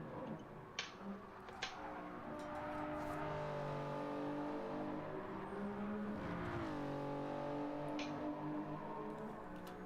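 Race car engine in a racing video game, a steady sustained drone with harmonic whine holding through the run, dipping and climbing again as the car shifts while slipstreaming; a couple of brief clicks sit on top, no talk.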